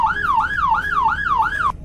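A sheriff police car siren in the Roblox game Greenville sounds a loud wailing cycle, sweeping up and down about five times in under two seconds before cutting off.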